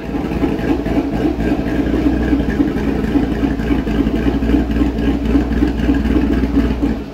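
A tuned LS2 V8 in a C6 Corvette runs at a steady idle, a loud, close, continuous low rumble with an even pulsing throb and no voices.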